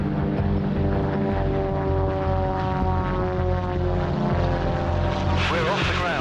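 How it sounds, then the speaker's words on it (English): Light propeller aircraft running up and taking off for a loop, a steady droning engine with layered harmonic hum that swells and shifts pitch near the end, loud and close with faint voice beneath. "2 aircraft lining up for departure this time."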